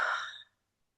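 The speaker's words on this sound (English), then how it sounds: "That is a breath that the body takes to discharge." A single deep, discharging breath demonstrated by a woman, a long airy exhale like a heavy sigh that fades out after about half a second and leaves silence.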